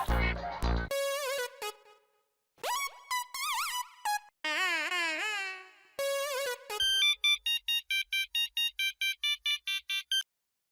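A telephone rings with an electronic ringtone: a rapid run of melodic chirps and warbling tones, then a long train of evenly spaced pulsing rings, loud and close with gaps between phrases.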